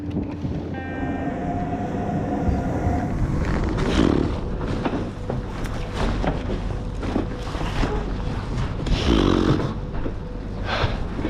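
A train rumbles past nearby in Voss, Norway, with steady low mechanical roar and rattling, swelling louder around the middle and end, no voices.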